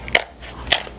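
Jumbo king crab shell cracks under biting in two close, sharp crunches about half a second apart, up close and loud, with chewing noise between them.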